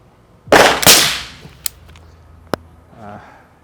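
A firearm is fired while being zeroed at a 20-meter range: one sharp, loud outdoor shot with a brief echo tail, followed by a few faint clicks and handling noises.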